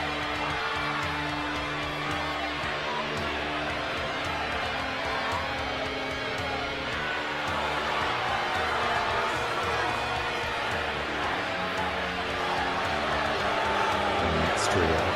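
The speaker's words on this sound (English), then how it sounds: "A mixed reaction from the crowd here." A wrestling crowd at a Los Angeles show keeps up a steady, loud murmur of mixed reaction, with scattered shouts and whoops rising near the end. A commentator's voice runs over it.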